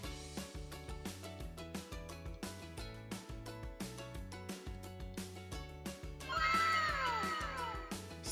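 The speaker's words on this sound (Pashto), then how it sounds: "پیشو" A single cat meows clearly near the end, a short rising-and-falling cry over rhythmic background music.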